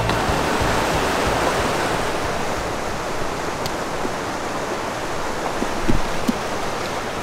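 A Wyoming creek rushes loudly nearby, a dense, steady broadband roar of moving water with no pauses and only a faint thump near the end.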